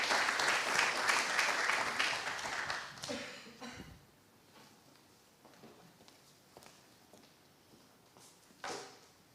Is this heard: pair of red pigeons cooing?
no